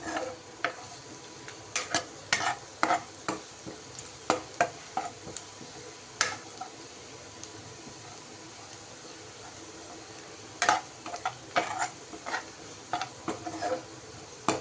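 Onions frying in a pan for an egg gravy served with parotta, a soft steady sizzle punctuated by repeated clinks and scrapes of a spoon stirring against the metal pan.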